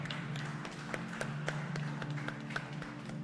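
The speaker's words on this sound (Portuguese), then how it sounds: "Vamos aplaudir ao Senhor, com a nossa melhor salva de palmas" A church congregation claps together in praise, faint, fairly steady rhythmic claps repeating roughly twice a second over a low hum of the room.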